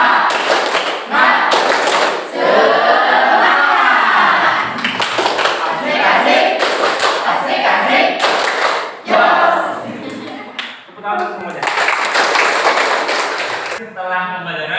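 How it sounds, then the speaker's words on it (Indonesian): Students in an Islamic religious education classroom perform a group spirit clap chant, sharp rhythmic hand claps and thumps mixed with chanting voices, fairly loud and close throughout, with brief pauses between bursts. "Tepuk semangat."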